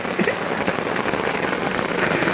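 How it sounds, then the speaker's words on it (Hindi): Heavy rain pours down steadily outdoors where a tractor and loaded trolley have stopped, a loud dense patter with close individual drops hitting surfaces. "बारिश आ गई"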